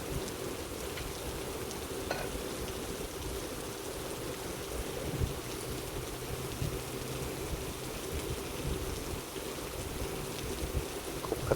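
Heavy rain with hail pours down in Maharashtra, a dense, even hiss of water on surfaces holding steady throughout, with occasional faint knocks and no voices.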